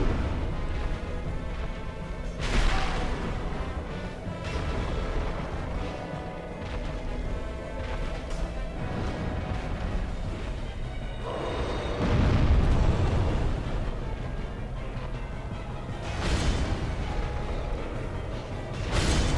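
A Dark Souls boss, the Gravelord Sword fight, unleashes booming blast attacks, loud eruptive bursts around 2.5, 12.5 and 16 seconds over a constant rumbling game soundscape of music and effects.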